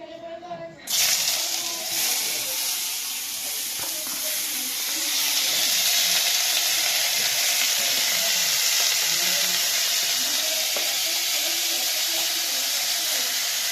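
Onion sizzling in a small amount of oil in a home kitchen pan, a steady bright hiss starting abruptly and continuing unbroken, with faint voices underneath.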